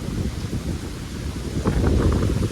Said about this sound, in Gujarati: તમે જો કેટલો વરસાદ પવન છે